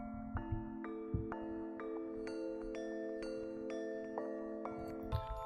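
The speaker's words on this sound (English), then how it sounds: "With the flute and the cascading bells." A music loop built from a melodic flute line and cascading bell tones, stepping through bright plucked notes over a steady low pad with soft rhythmic hits, playing alone without any voice.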